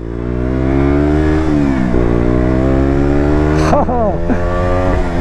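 A KTM Duke 125 motorcycle engine (2020 model) hums loudly and steadily, then revs up in quick rising bursts near the end, close and prominent.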